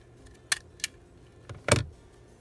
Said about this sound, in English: So if I can just go ahead and staple it.